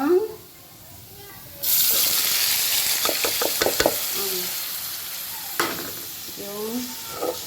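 Bitter gourd (ampalaya) sizzles steadily in a hot pan while a utensil stirs it, scraping and knocking in quick clusters over the continuous frying hiss; a voice is briefly heard at the start.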